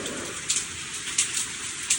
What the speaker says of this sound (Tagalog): may kasama pang yelo. Ang ulan. May kasamang hail.